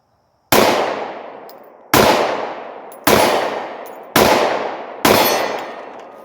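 Five loud, close Glock 19 pistol gunshots at a range, each a sharp crack with a ringing decay, spaced roughly a second apart, no talk.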